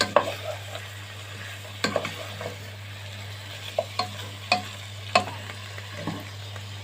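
Spices, including bay leaf and cardamom, sizzle in hot fat as they are stirred in a pan for Egyptian fatta: a steady frying hiss broken by repeated scraping and tapping strokes over a constant low hum.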